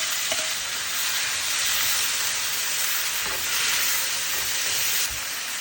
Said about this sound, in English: Let's add our tomatoes.